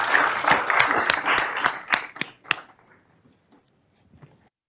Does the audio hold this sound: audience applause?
yes